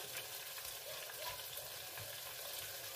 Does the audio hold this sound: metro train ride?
no